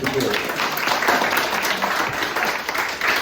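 An audience at a lecture on the actor David Garrick applauds to welcome a speaker, a steady, close wash of clapping lasting a few seconds with some voices mixed in.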